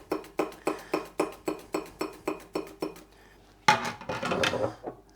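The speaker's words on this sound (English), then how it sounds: "I have some more cucumber that I'm just gonna slice for my pickled cucumbers" Cucumber is pushed across a microplane mandoline slicer in about a dozen evenly spaced, rhythmic strokes, close and crisp, followed by a short burst of clattering as the slices are gathered.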